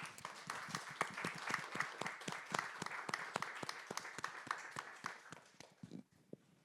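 Rhythmic audience applause at a press association gathering, crisp individual claps in a fairly even beat that thins out and stops near the end.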